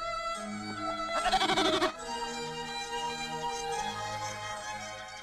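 A female goat bleats once in a short wavering burst, clear and close, set against a sustained musical background that runs throughout.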